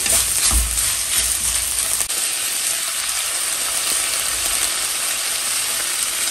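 Yellow and red bell peppers sizzle loudly in a hot pan, a dense continuous hiss with a few stirring bumps near the start.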